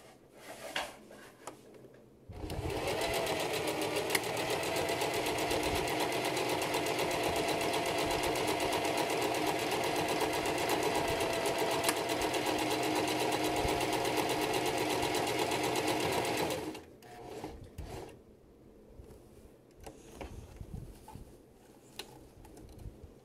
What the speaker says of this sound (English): The next step is to sew button to tab under buttonhole.